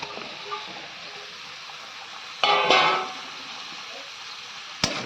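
Drumstick pieces and a medium potato are sautéed with spices in a pan for a home-style rohu fish curry, giving a steady soft sizzle with a couple of louder scraping stirs.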